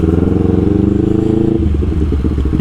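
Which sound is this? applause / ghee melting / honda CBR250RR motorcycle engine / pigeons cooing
honda CBR250RR motorcycle engine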